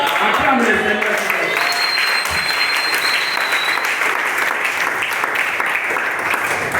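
Sustained applause from a church congregation acclaiming the Lord, dense and steady throughout with a faint voice heard over the clapping early on.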